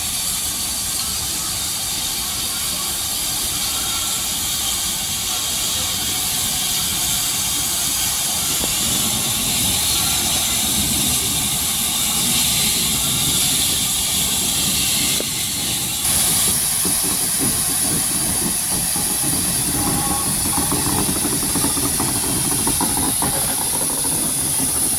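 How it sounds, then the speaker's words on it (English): A steam locomotive hisses steadily and loudly, a constant high rush of escaping steam over a low chuffing engine rumble, continuing for a long stretch. "This is the last steam engine of the day."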